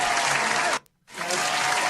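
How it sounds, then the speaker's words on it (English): Two short bursts of dense audience applause on a podcast, each under a second, separated by an abrupt silent gap. The clapping is full and close, with no voices. "That was a clap for Tori and Robert."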